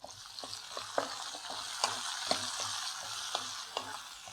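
Tomatoes fry in a pan for a thippili and thoothuvalai rasam, a low steady sizzle punctuated by repeated light scrapes and taps of a spoon stirring, close and fairly quiet.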